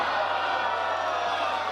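A wrestling arena crowd at a four-way no-disqualification match roars and cheers in a steady, dense wash of noise, with a commentator's voice faintly underneath.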